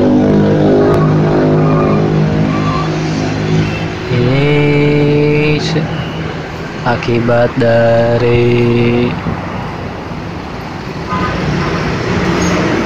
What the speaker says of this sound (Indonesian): Jalanan semakin macet.